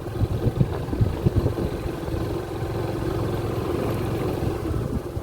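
A vehicle drives along a very rough, badly rutted road in the Gir area on a trip to fetch river sand, giving a steady mid-level engine rumble with uneven bumps and jolts early on and no talking.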